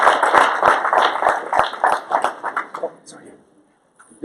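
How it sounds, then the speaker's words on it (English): Audience applause for a presenter at an info session, a dense burst of clapping that fills the room for about three seconds before thinning out and stopping, with crowd voices mixed in. "So let's give him a round of applause"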